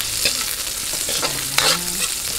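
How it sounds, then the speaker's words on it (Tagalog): Onions sautéing in a pan, a bright hiss of frying broken by scraping stirs and a few utensil clinks, close and fairly loud with no speech. "Sunod po natin ang sibuyas."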